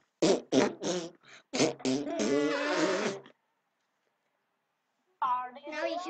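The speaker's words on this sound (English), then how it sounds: "I do farts so crackly." A voice makes crackly fart noises during a Minecraft session, with rough buzzing bursts mixed in with excited chatter and a pause of silence before more sounds.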